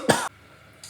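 A single short, sharp cough from someone getting over a head cold bursts out alone, followed by quiet and a faint breath.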